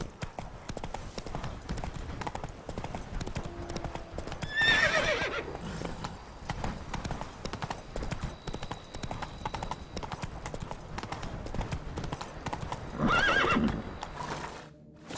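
Horse hooves galloping in The Witcher 3 video game, a steady rapid clip-clop running throughout with loud whinnies around the fifth and thirteenth seconds; no talk.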